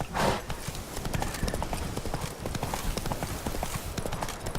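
Roach the horse gallops in The Witcher 3 Blood and Wine, dense rapid clip-clopping of hooves close by, continuous and loud across the whole stretch.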